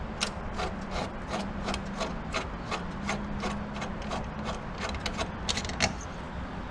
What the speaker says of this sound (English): we've threaded on our nutsert onto the rivet tool, and we're going to put it into the hole, give it a good squeeze